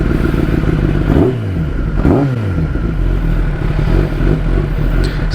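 A Kawasaki ZX-10RR litre-class sport motorcycle idles loudly up close and gets two quick throttle blips that rise and fall, with a mechanical clatter running underneath.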